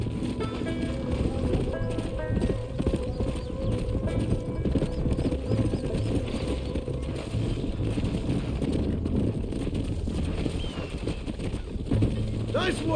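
Horses clip-clopping as they are led into a corral at a ranch stable in the video game Red Dead Redemption Remastered, a steady close run of hoofbeats under continuous talk.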